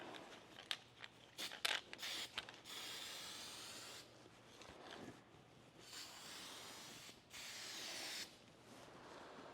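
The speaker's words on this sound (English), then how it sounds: "I'll just spray my weld-through primer" Aerosol can of weld-through primer sprayed onto bare metal areas of a Camaro roof skin in a body shop, heard as several hissing bursts of varying length close up, with tool clatter between them and no talk.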